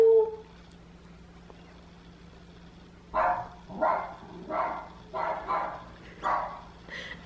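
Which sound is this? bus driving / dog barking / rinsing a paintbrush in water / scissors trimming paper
dog barking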